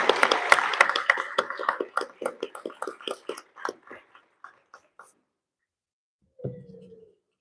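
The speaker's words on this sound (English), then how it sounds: "Let's give one more round of applause to all of our graduates today." Applause for the graduates at an internal medicine residency graduation ceremony, a burst of clapping that thins into scattered individual claps and stops, followed by a brief low sound near the end.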